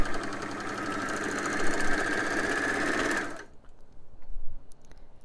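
An overlocker stitches a seam with a fast, steady mechanical whir and chatter for about three seconds, then stops abruptly, leaving quiet handling noise.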